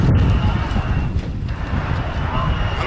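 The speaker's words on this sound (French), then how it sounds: "Le vent qui est en train de tout emporter." Strong wind gusts sweep across a football stadium in Cameroon during a World Cup 2014 qualifier between Burkina Faso and Congo, a constant loud roaring rush that sits under a commentator's voice throughout.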